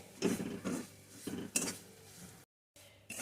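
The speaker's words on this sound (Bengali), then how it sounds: "এখন সমানে এইভাবে নাড়তে থাকবো আর সুজিটাকে ভালো করে ভেজে নেব" A spoon scrapes and clinks in a pan as semolina is stirred and fried for suji halwa, several short close strokes in quick succession, briefly cut to silence near the end.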